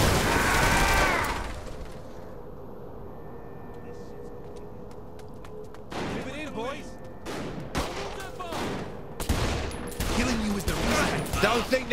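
Gunfire in the Saints Row 3 video game breaks out as rapid bursts of automatic shots and fusillades after a spoken line, with a steady engine-like hum underneath.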